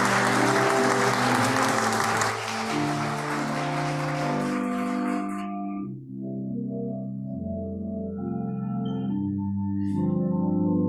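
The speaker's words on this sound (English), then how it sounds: "Now you can give them a round of applause." A church worship service audience bursts into loud, dense applause over sustained music for about five seconds, then the clapping stops and the music carries on alone.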